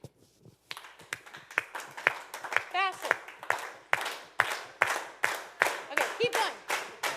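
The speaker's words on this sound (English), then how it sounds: "everyone to start clapping and get on the same beat" A youth group claps together at a birthday party, sharp hand claps settling into a steady, quickening shared beat, with a leader's voice calling out over the rhythm.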